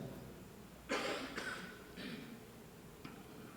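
A few short coughs in a quiet room during a municipal agriculture and environment meeting, two close together then another pair, sharp and moderately loud, ending with a faint click.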